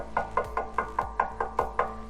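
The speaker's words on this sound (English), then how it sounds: "someone knocked at his door" A knock on a door comes as a steady run of about ten evenly spaced, fairly soft raps, each with a low thud, heard alone with no voices.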